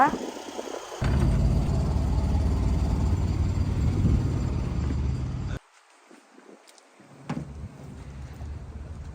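A motorboat engine runs loudly at sea, a heavy steady rumble for several seconds that cuts off abruptly and leaves quiet background noise with scattered faint sounds.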